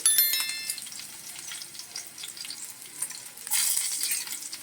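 Garlic and tempering spices crackle in hot oil on a stove, quick sharp pops over a soft sizzle, with a louder burst of spitting toward the end.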